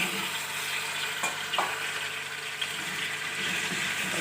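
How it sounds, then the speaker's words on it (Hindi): Washed beef trotters for paya go into a pot that's already hissing, with a steady broadband sizzle and stirring throughout, and a few brief knocks and clatters as the pieces drop in. No one speaks. "पाए ऐड कर दूंगी।"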